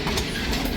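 Vintage freight train with boxcars rolling on rails, a loud, close, steady rumble with faint rail clatter, no voices, brief.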